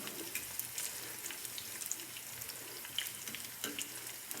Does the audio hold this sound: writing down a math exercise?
no